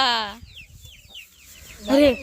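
Chicks give shrill, clucking calls in two bursts, one at the start and one near the end, with a quieter farmyard stretch between them.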